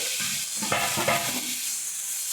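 Chilli powder, turmeric and cumin fry in oil in a pan while being stirred, a soft close sizzle with brief scraping stirs in the middle.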